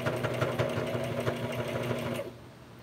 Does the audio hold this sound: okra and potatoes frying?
no